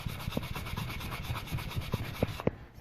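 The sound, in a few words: sanding metal wire jewelry with 800 grit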